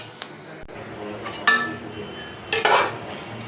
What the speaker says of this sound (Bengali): পেঁয়াজটা কিন্তু লাল হয়ে আসছে, এখন আমি ডালের মধ্যে দিয়ে দিব।